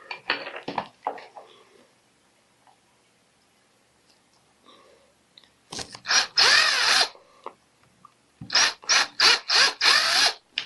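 A small power drill bores guide holes for screw eyes into a PVC swimbait, heard as a few close, loud whirring bursts after some quiet handling clicks.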